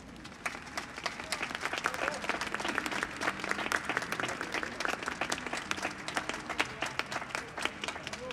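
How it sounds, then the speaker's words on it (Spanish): Enthusiastic audience applause at a Christmas gala festival concert in San Javier, dense steady clapping from a sizable crowd with sharp individual claps standing out, continuous throughout. "Fuerte el aplauso, por favor."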